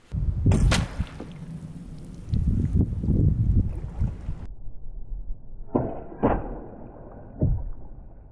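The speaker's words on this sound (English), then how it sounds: "That hit the board and it went in at the 2 meter mark." An arrow shot into a lake strikes a board underwater, heard as a few dull, muffled thuds and knocks among low rumbling water and wind noise.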